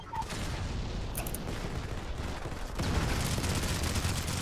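Gunfire in the Modern Combat 5 mobile shooter, using a T9 assault rifle, comes as a dense, continuous rattle of rapid shots that grows louder near the end, with no voices over it.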